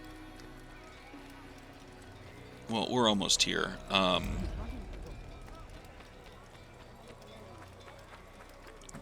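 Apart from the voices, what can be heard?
horse galloping in video game Assassin's Creed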